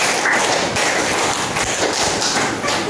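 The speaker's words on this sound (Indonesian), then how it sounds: "tepuk 3 2 kali" Adults in a classroom clapping two quick sets of three, crisp hand claps in a rhythmic pattern with brief pauses between groups, filling the room at moderate loudness.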